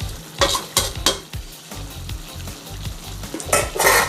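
Red curry paste is stir-fried in a pan for a spicy snakehead fish dish, with loud sizzling broken by repeated scraping strokes of a spatula at an uneven rhythm, up close and without talk.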